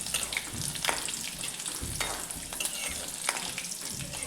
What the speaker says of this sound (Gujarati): તેને આપણે હલાવતા રહીએ અને થોડી વાર માટે સાતળી લેશું